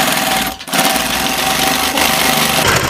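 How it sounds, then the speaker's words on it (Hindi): A sewing machine runs steadily, loud and near, stitching back and forth over a repair on a pair of jeans, with one brief pause in its whirring drone before it resumes. "तो देखिए हम सिलाई को इस तरीके से आगे पीछे कर रहे हैं टाँके से टाँका मिलाकर चला रहे हैं"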